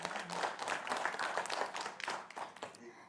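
An audience at a televised 2020 Karawang event claps briefly and unevenly for the pairs of election candidates, with bursts of applause rising and fading over about three seconds amid some talk.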